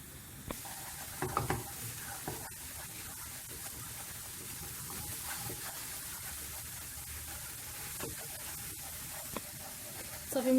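Eggs stirred while frying in a pan for a spinach and cheese briouat filling, giving a steady soft sizzle with scraping stir strokes throughout, no talking.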